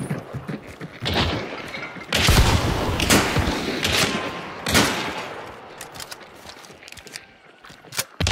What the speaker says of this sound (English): there's a guy shooting at your side